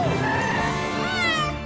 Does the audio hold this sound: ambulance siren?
no